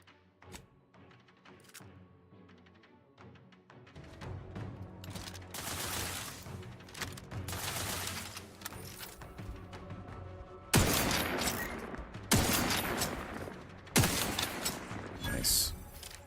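Gunfire in The Outer Worlds 2, building from scattered shots into heavy, loud bursts with sharp cracks near the end, mixed with game sounds and a voice speaking.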